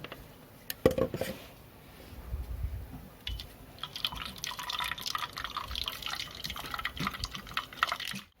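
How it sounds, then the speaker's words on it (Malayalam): A homemade juice for chickens pours and drips through a wide-mesh strainer, with scattered trickling and splashing, close by and fairly quiet. "കണ്ണിയകലമുള്ള ഒരു അരിപ്പെടുത്തിട്ടാണ് അരിച്ചെടുക്കുന്നത്"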